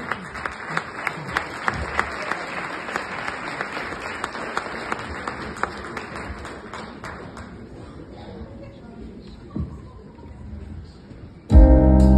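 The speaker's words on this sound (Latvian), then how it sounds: "Ar aplausiem!" An audience applauds at a live show premiering an original song: dense, steady clapping with sharper individual claps that thins over time, then a sudden loud burst near the end.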